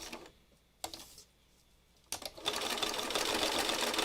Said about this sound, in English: And I'm stitching on and off the edge of the square